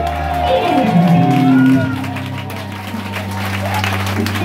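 A church congregation at a Pentecost service rises to acclaim, applause and cheering swelling loudly at first then settling into a sustained crowd roar, with a voice speaking and a held musical tone underneath.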